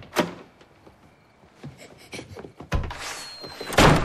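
A door thuds shut and clicks in a family home, followed by scattered knocks and rustling, then a louder rattling bang near the end.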